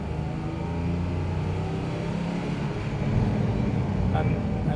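Porsche 911 997.1 GT3 engine droning steadily from inside the car while driving, rising slightly in loudness toward the end.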